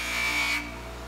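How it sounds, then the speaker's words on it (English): A medium buffing wheel spins on a bench grinder loaded with white jeweler's rouge, polishing a nickel-plated lantern fount; a steady close whirring hum with a low motor drone, brighter for about half a second, then easing off. "I've got a medium buffing wheel on my bench grinder"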